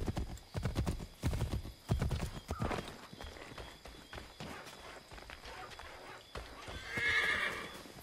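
Horse hooves clip-clop in Assassin's Creed 3 during the Midnight Ride sequence, a run of sharp, fairly close strikes in the first few seconds that thin to scattered, fainter steps, followed by a brief whinny near the end.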